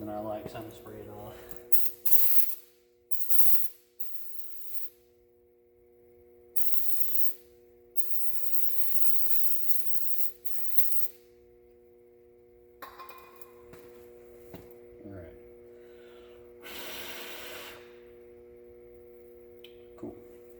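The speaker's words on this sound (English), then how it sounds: "So it's got some more oil on it than I like, so I'm going to spray it off." Several short bursts of spray hiss in quick succession, close by, spraying oil off M35A2 truck front axle knuckle parts, separated by pauses, with a steady hum and some background noises in between.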